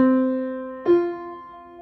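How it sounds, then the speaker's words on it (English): Two sustained piano-like notes in sequence, C then F a fourth above, each ringing clearly and slowly fading. "So the fourth apart sounds like this."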